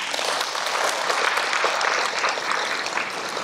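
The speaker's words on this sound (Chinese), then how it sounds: "鼓掌一下" An audience at a talk claps together in a steady, dense burst of applause lasting a few seconds, fairly loud and without talk over it.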